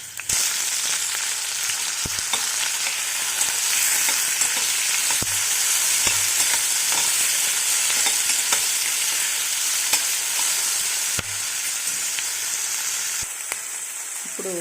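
Onions, green chilies and cumin sizzle steadily in hot oil for a beerakaya (ridge gourd) chutney, with a spoon scraping and stirring through them; loud, continuous frying with occasional clacks, no voices.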